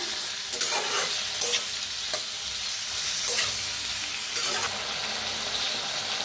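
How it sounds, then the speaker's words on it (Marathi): Food fries in mustard oil in a pan for a potato and yogurt dish, a strong continuous close sizzle with scattered scraping and stirring strokes of a spatula. "छान असं तेला भाजून घेऊया आणि मी ना मोहरीचं तेल वापरलेलं आहे"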